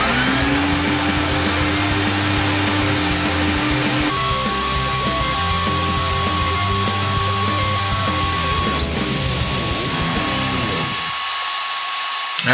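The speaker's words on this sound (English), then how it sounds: "And now time to vacuum your frame." Vacuum cleaner sucking debris from a rusty old car frame, a loud, steady high-pitched whine that shifts pitch partway through and cuts off near the end.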